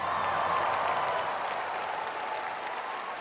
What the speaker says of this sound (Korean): 끝나지 않을 것 같은 함성